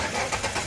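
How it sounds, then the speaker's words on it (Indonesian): Chery Tiggo 5X engine turning over from remote start, heard as a brief, moderately loud burst of engine noise with no talk. "Dia udah ada remote engine start."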